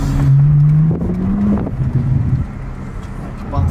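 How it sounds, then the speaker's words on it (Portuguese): A Porsche Panamera engine with a modified exhaust and the exhaust valve opened revs hard close by, a strong rising growl that peaks and falls back over about two seconds, with brief settling and a second rise at the end. "Vamos dar um giro no motor."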